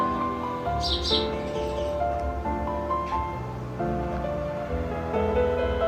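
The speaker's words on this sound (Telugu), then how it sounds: "గ్రేప్స్ మొక్క మీద పిచ్చుకలు" Sparrows nesting on a grapevine chirp in quick, light tweets over a steady wash of background noise and faint music, the calls scattered and moderately close.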